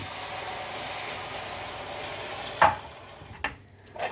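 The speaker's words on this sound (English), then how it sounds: "Beer goes in." Beer splashes into a hot pan of sweating onions with a sharp burst of sizzle, followed by a couple of clatters and a quieter hiss as the liquid settles.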